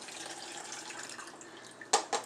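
Sauce pours from a container into a big seafood crab boil pot with a steady, soft liquid wash, followed by two short louder splashes near the end, close by.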